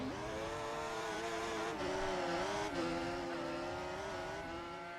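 Formula racing cars scream past at speed on a German circuit, one car overtaking another at a corner, a loud continuous high-revving engine whine with shifting pitch and no break.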